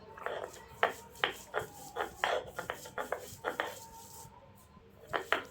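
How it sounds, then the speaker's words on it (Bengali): Boiled flat beans are mashed with salt into a bharta paste, producing a run of uneven, close scraping and grinding strokes in quick irregular bursts, with a short pause before a final few strokes. "তারপর এগুলোকে বেটে ভালো করে ভর্তা বানিয়ে নিব।"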